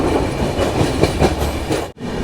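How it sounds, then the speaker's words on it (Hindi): A train pulling into platform 1 at Chandrapura Junction in Jharkhand's Bokaro district, loud and close, with heavy rolling rumble and rhythmic clickety-clack of wheels over rail joints. "गाड़ी आई है चंद्रपुरा के 1 नंबर प्लेटफॉर्म पर"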